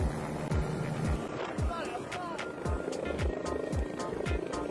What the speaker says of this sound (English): the French pilot tips the nose of the H-145 rescue helicopter onto the snow